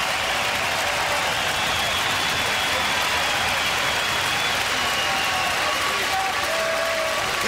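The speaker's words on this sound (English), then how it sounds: "Couldn't hear it, the crowd was so loud." Loud, roaring crowd at a boxing arena, a dense steady wash of cheering and applause that fills the whole stretch without a break, with faint tonal calls drifting through near the end.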